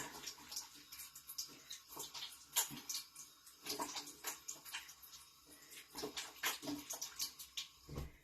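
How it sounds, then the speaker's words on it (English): Quiet splashing of water from a running tap as someone rinses cleansing balm off their face, soft intermittent splashes and drips, faint and close with no talk. "let me wash this cleansing balm off real quick"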